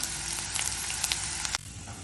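Onions sauté with ginger and garlic in a pan for mushroom gravy, giving a lively crackling sizzle with sharp spits that suddenly cuts off part way through, leaving a softer hiss.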